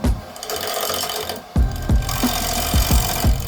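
A wood lathe turns an off-center tenon, giving a steady whirring hum broken by a run of sharp, rhythmic chattering knocks as the tool meets the spinning wood, close and fairly loud.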